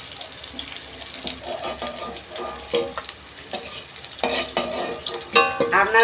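Stuffed bitter gourd frying in a pan, with steady sizzling under scattered utensil clinks and scraping as the pieces are turned and lifted out; close and moderately loud, with no speech.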